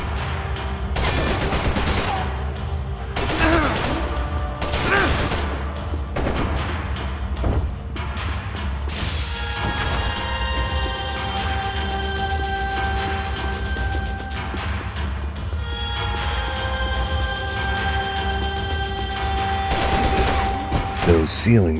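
Gunfire in Max Payne 3, rapid bursts and single shots cracking repeatedly over a droning music bed, with a voice speaking over parts of it.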